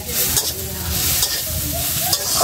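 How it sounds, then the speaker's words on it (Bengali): Garlic paste and fish are stirred in a hot pan, with a constant close sizzle of frying and repeated scraping strokes of the spoon against the pan. "রসুন বাটাটা আমি আবার মিশানোই।"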